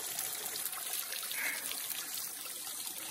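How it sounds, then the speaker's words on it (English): Water seeping from a mountainside trickles and streams steadily off the underside of a log on a backpacking trail, a soft continuous babble heard close and alone. "That's pretty cool how it's streaming down the lower side of that log."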